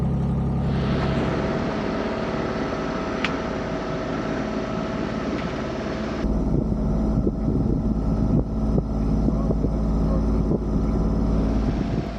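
A sailboat motors under engine power in near-calm wind on the way to Rock Hall, Maryland. A constant low engine drone mixes with wind and water noise, and the tone shifts partway through.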